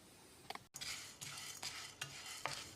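Chana dal is dry-roasted over moderate heat in a pan, heard as a few soft rhythmic scraping and rattling stir strokes, quiet and close.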